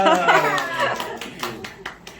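A small indoor audience gives a brief, scattered round of clapping, a handful of separate claps that fade out, with a voice speaking over the start.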